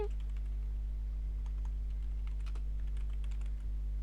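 Keys tapped on a computer keyboard during a web development lesson, faint scattered clicks in an irregular rhythm over a steady low electrical hum, with no talking.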